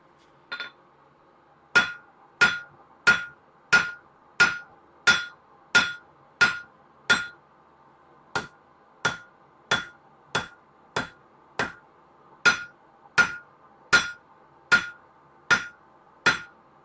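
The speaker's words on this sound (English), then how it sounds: "So right now I'm alternating between the round part of my hammer and the flat part of my hammer." Hand hammer strikes on hot metal stock at the anvil, alternating between the round and flat faces of the hammer: about twenty sharp, ringing blows in steady groups with brief pauses, close and loud, with no talking.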